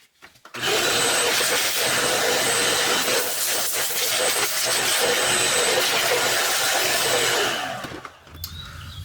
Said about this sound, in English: I'm gonna get my vacuum cleaner, just kind of vacuum up this loose debris